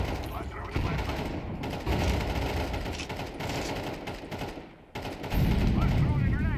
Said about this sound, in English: Let's throw the grenade. Let's throw the flashbang.